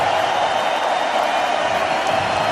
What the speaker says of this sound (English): And good for them, crowd's cheering.